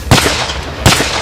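Two sharp gunshot cracks from sniper rifles at a WWII reenactment mock battle, spaced under a second apart and each trailing into an echoing outdoor decay, fairly loud against a steady background rumble.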